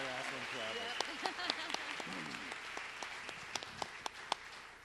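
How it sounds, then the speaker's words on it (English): Audience applause at a Willmar Fests ambassador coronation: faint, scattered clapping with a few sharper individual claps, mixed with talking early on. "Another round of applause."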